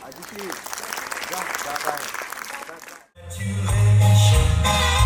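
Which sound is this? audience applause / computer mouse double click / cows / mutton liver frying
audience applause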